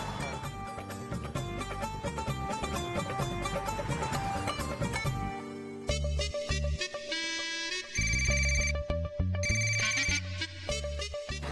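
A mobile phone ringtone plays a loud, repeating electronic melody for several seconds, alone, with no one speaking.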